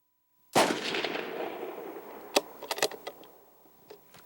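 A rifle goes off with a single sharp, loud report at a shooting range, followed by a long rolling echo and a few fainter clicks and knocks as the action is worked.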